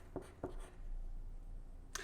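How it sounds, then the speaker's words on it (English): A pencil writing a word on a second-grade suffix activity sheet, a few short scratchy strokes separated by a pause, close and quiet, with soft speech nearby. "On my suffix activity sheet, I will write the word walk"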